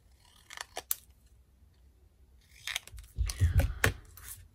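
Large scissors cut straight through a thin acetate sheet at a papercraft table, a few crisp snips followed by a denser run of cutting and handling noises, mixed with low talk.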